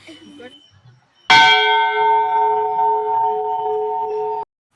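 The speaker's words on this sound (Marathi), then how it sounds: "छान अशा मोठ्या छोट्या दोन घंट्या होत्या" A large temple bell in the hill station of Matheran is struck once after a brief stretch of faint background voices, ringing out loud and close with a long, steady sustained tone that cuts off abruptly.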